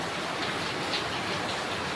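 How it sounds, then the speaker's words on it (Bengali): Steady rain pours down outdoors around a house with a dense, even hiss of drops hitting surfaces, close and continuous, with no voices. "বৃষ্টি শুরু হয়ে গেছে।"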